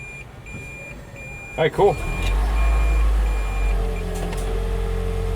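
A Toyota Prius in reverse gear gives a steady, evenly spaced run of high warning beeps under a low engine hum, with a brief burst of nearby speech.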